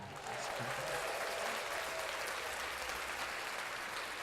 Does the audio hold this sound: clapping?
yes